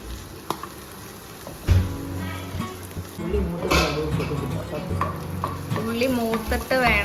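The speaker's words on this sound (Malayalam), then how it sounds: "ഉള്ളി ഇട്ട് കടുക് വറക്കണം" Small shallots and mustard seeds frying in coconut oil for Kerala-style rasam: a close, crackling sizzle with spoon scrapes and clinks against the pan, a sharp clatter early on, and voices talking over the cooking.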